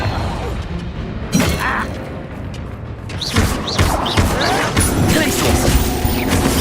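Confringo spell blasts in Hogwarts Legacy burst in a rapid volley of booming, shattering impacts amid a loud battle din, with a voice calling out over the explosions.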